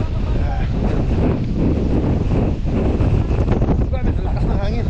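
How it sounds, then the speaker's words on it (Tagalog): Strong wind roars and buffets the microphone continuously on Mt. Batulao in Batangas, with a voice speaking faintly beneath the gusting noise. "Lakas ng hangin. Oh, talagang lakas."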